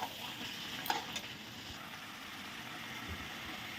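Chicken and spice masala frying in a wok, with a faint, steady low sizzle and a couple of soft stirring scrapes near the start.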